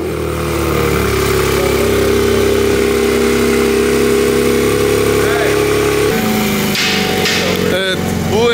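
BMW M3 fitted with a full dynamic exhaust, midpipe and rear silencer but no downpipe, droning loudly and steadily at close range before dropping off, with a few sharper blips near the end.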